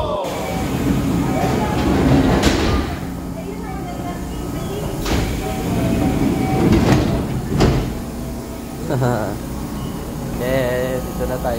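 Rumbling Kintetsu Rail train running near Nara with a steady low hum and a few rattling clunks, while people talk nearby throughout.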